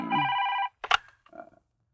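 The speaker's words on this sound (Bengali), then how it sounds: "স্যার ফোন আসছে।" A telephone bell rings loud and close in one short burst, followed by a couple of brief clatters as the handset is picked up.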